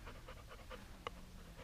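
A dog panting softly in quick, rhythmic breaths with one brief sharper sound partway through, close and quiet, with no talking.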